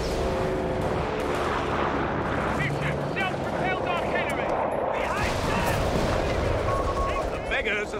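Vickers machine gun fire in Company of Heroes 3, a British 4v4 multiplayer match, dense continuous gunfire and explosions over a busy battlefield din, with voices speaking over it throughout.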